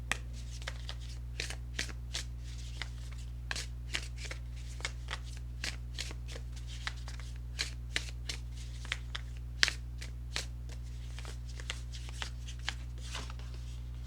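Angel affirmation cards being shuffled by hand, a steady run of quick crisp card riffles and flicks repeating at close range over a low constant hum.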